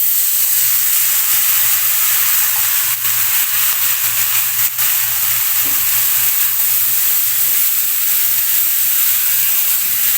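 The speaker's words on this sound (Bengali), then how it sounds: "মোচাটাকে তেলের উপর কিছুক্ষণ ধরে ভেজে ভেজে নিব আমি।" Boiled banana flower fries in hot oil with spices, giving a loud, continuous, even sizzle and hiss, broken by a couple of brief stirring knocks.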